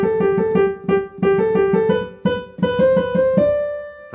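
Solo piano plays Mozart's Eine Kleine Nachtmusik with quick, even semiquaver runs rocking between neighbouring notes at full tempo, clear and close with no one speaking.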